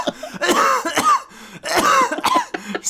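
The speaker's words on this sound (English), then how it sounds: "Stop coughing." A person coughs after inhaling cannabis smoke, a close, loud burst of several harsh, wet coughs in two clusters with throat-clearing rasps between, and no talk.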